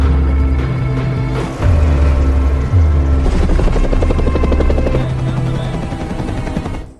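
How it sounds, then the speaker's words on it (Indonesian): A hospital helicopter in flight gives off a loud, continuous rotor thrum with heavy low pulsing beats that stay close and dominant throughout, with no voices. "menyusup ke dalam helikopter rumah sakit yang terbang menuju ke benteng Max"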